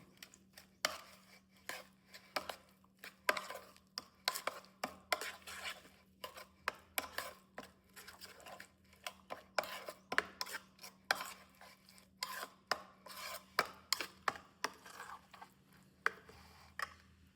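A spoon stirs village-style tomato chutney with dried red chilli, coriander-cumin powder and salt, making repeated rhythmic scraping and tapping against the pot, close by over a low steady hum.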